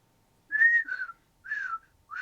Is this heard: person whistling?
yes